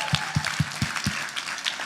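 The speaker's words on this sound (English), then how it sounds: "Can we all give a round of applause for our amazing folks here at the Hotel Roanoke?" An audience applauds hotel staff at a conference in the Hotel Roanoke: a brief run of five or six sharp, evenly spaced claps that then thin into scattered, fainter clapping.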